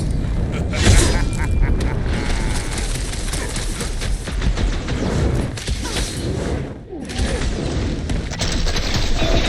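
Loud rocket fireworks explode in a chaotic battle in the Guardians of the Galaxy video game, with dense overlapping blasts, booms and mechanical clatter that dip briefly before surging again.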